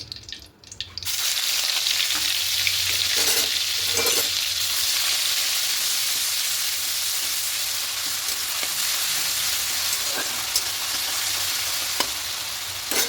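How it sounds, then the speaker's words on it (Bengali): Onion paste frying in hot oil for an egg dish, a steady, close and loud sizzle that holds throughout, with a few faint stirring knocks and no talking. "এবার এই তেলের মধ্যে দিয়ে দেবো পেঁয়াজ পেস্ট"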